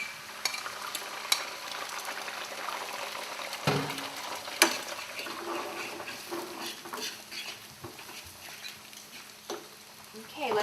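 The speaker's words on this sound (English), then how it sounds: "Okay, I think we're ready for the eggs, so we're going to scramble those in here." Eggs scrambled in a hot pan of fried rice, a steady sizzle and frying crackle with occasional scrapes and clinks of a utensil against the pan, fairly quiet throughout.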